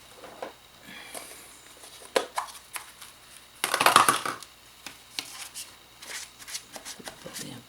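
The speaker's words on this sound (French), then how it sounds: "je vais prendre un petit papier" A small piece of paper is handled during crafting of a little sticky-note notebook: soft, scattered rustles and crinkles, quiet and close, with one louder stretch of crumpling partway through.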